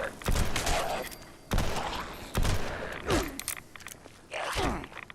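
Far-flung fireworks legendary perk explosions in Fallout 76: a series of sharp, crackling bursts, about five in quick irregular succession, loud and close with some faint background noise.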